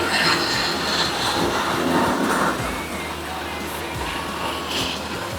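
A modified farm machine's automatic engine runs steadily, a broad continuous drone with low rumble and some mid-range clatter, loud and close throughout, with a brief dip in level partway.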